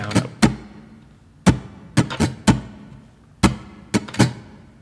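Dull, percussive muted strums on a 12-string guitar sound in a repeating down-down-up rhythm, short and choppy with little ringing tone, close and unaccompanied.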